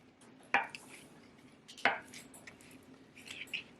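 A knife chopping a skinned potato into chunks, two sharp, distinct chops on a board about a second apart, then a few lighter taps, close up in a quiet kitchen.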